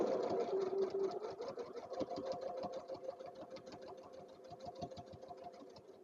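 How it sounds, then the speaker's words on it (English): A regular domestic sewing machine stitches a quilt in a fast, even run of needle strokes, fairly quiet and steady, with no voices. "then I'm going to get stitching"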